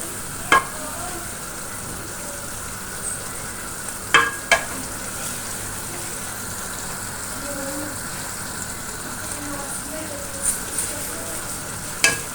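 Minced meat keema with peas fries in a pan, giving a steady, even sizzle, with occasional sharp clinks of a spoon stirring against the pan.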